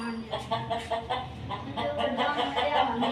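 Hens kept at home clucking nearby, a series of short rhythmic clucks repeating about twice a second, fairly close and clear, with a voice briefly underneath.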